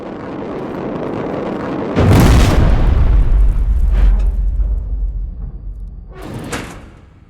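A door opens in the video game Terminator Resistance with a loud heavy burst and rumble, a later whooshing swell, then a second sharp burst near the end, over continuous game ambience.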